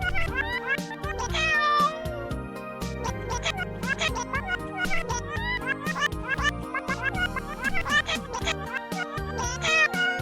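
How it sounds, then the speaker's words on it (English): A cartoonish cat meows over and over in the video game Plumbers Don't Wear Ties, loud and close. The meows come in rapid, bright bursts over busy game music and effects. "That cat is evil."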